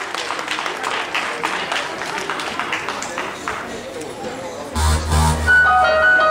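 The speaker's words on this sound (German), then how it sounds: "Ein großer Applaus." Audience at a 2011 rap show in Bonn applauding and cheering for a young rapper, a clapping crowd under a talking host, with music swelling in near the end.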